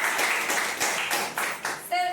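An audience at a seminar claps in a steady rhythmic patter, with voices mixed in and a brief tonal ring near the end.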